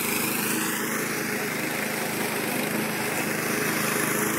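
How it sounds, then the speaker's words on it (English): Push lawn mower cutting long grass on the grounds of a scout hall, a steady, loud engine drone that runs unbroken throughout, close by with no talking. "It's quite long actually, so it's quite hard to push that mower."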